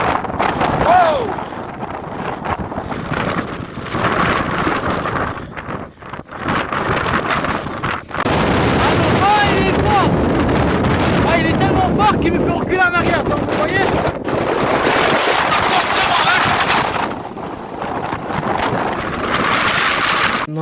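Strong wind buffets the microphone on a mountain summit, gusting loud and rough throughout, with people talking intermittently under the roar.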